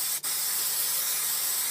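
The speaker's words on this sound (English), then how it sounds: "it's like repositionable adhesive spray. So give it a good old soak." Repositionable adhesive craft mount spray misted from an aerosol can onto a dollhouse exterior, a steady close hiss running throughout after a brief click at the start.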